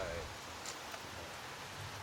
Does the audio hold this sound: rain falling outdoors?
yes